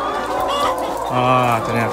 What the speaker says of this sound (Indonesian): Nah ini guys kandangnya ayam